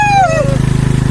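Scooter engine thrumming with a steady low pulse during a ride, heard briefly and close, with a voice speaking over the start.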